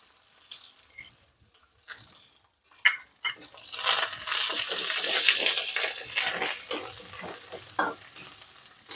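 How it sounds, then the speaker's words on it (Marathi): Curry leaves drop into hot oil that already fried garlic and fenugreek seeds, and a loud crackling sizzle bursts up after a few quiet taps and stays close and steady. "ह्याच तेलात कढीपत्ता टाकायचा"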